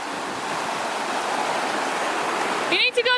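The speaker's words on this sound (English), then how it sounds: "You need to go to them big waves over there." Ocean waves wash steadily onto a beach in a broad, continuous roar close by, and a voice breaks in briefly at the end.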